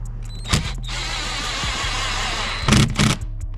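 A power driver tightens a screw on a BMW F10 5 Series door handle, with short buzzing bursts near the start and end over a low steady background hum, close by.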